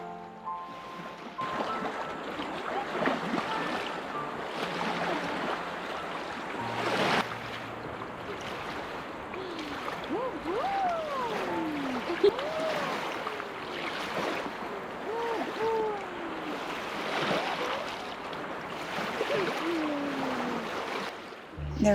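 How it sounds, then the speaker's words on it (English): A river swollen after weeks of rain runs full and fast, giving a steady broad rushing wash of water close by, with scattered bird chirps rising over it. "The river is so full that it's running really quickly"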